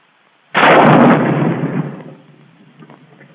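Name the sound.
bazooka rocket launcher firing, 1943 army training film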